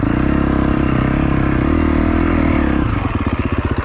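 A dad's 350 motorcycle runs steadily up close, its engine droning with a strong low rumble before shifting into a rhythmic pulsing chug near the end.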